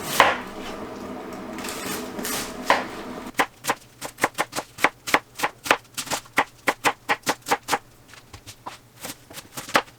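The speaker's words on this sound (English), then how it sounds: "We're going to start with our cabbage, and we're going to try to finely shred it." Rapid knife strokes shredding cabbage on a cutting board, the steady run of crisp chops starting dense and then separating into distinct, evenly spaced taps, close and clear.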